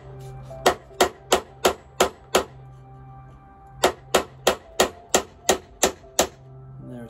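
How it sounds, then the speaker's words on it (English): A hammer gently taps a large flathead screwdriver to loosen a ring on a 2002 Piaggio Liberty 50cc scooter: a run of six crisp metallic knocks, a brief pause, then about nine more in steady rhythm, close and clear with no talk. "a gentle tapping of the hammer to loosen that up"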